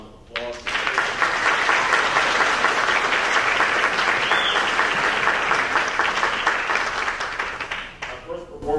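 A middle school spring band concert audience breaks into applause for the band students, rising quickly into loud, dense clapping that holds steady before dropping off, with voices briefly audible at the start and end.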